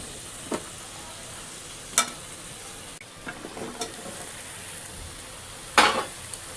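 Vegetables fry in oil with a paste of chili, coriander, cumin and turmeric, giving a soft, steady sizzle broken by a few sharp scrapes and clinks of stirring.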